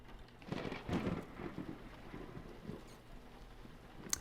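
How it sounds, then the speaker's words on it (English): Thunder rumbles through steady rain during a lightning strike in a game, a loud roll building early then fading into continuous rainfall with a sharp crack near the end. "There goes Lux falling from the sky again after being struck by lightning"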